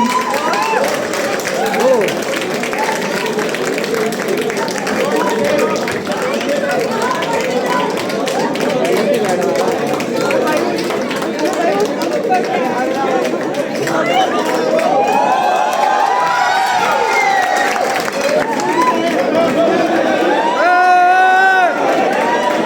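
A large crowd at a hackathon prize ceremony cheers and claps continuously and loudly, with shouts and whistles rising near the end, voices mixed in throughout.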